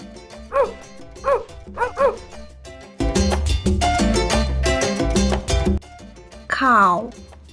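A dog gives several sharp, close barks with a high yelp or whimper near the end, all over loud background music.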